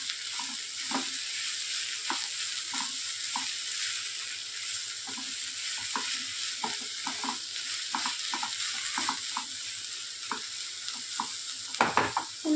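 Kurdu wild leafy vegetable with grated fresh coconut is stirred in a pan, with repeated soft scraping strokes at an even rhythm over a faint sizzle and a louder clatter near the end.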